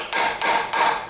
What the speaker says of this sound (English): lightly tapping them on with a hammer.